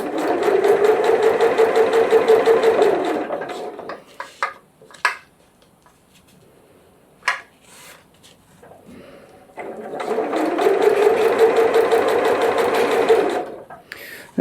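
Sewing machine stitching a waterproof canvas washbag runs in two loud, rapid bursts of about four seconds each, separated by a quiet stretch with a few small clicks and handling noises.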